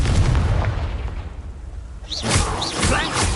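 A Confringo fire spell exploding in the Hogwarts Legacy video game on PS5: a loud, rumbling blast opens and fades, then a second burst with whooshing, sizzling flares follows after a brief lull.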